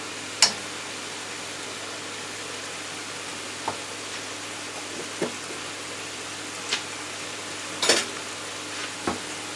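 Half a tablespoon of garlic frying in a stir-fry pan for a bourbon chicken and vegetable dish, a steady soft sizzle broken by a few sharp clinks and scrapes of utensils.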